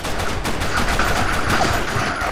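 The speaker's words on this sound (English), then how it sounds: "I'm shooting at pole now" Loud, continuous automatic gunfire from the shooter game BlackShot, with rapid shots packed close together, near and dense, without talk over it.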